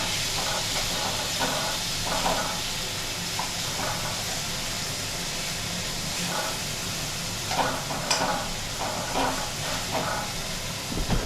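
Onions and potatoes with chilli, asafoetida and cumin for kande pohe are stirred in a pan under a constant loud hiss of steam and sizzling, joined by intermittent scraping strokes, close by and without talk.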